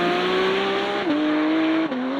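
Porsche GT4 RS sports car driving on the road, its engine a loud, steady drone from inside the cabin with a couple of brief dips in pitch as the revs shift.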